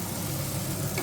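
Vegetables and soya chunks fry in a pan, giving a steady, dense sizzle that stays even and close throughout, with no talking.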